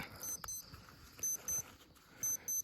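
An alarm clock beeps in short repeated pairs of high electronic tones, with soft rustling between the bursts.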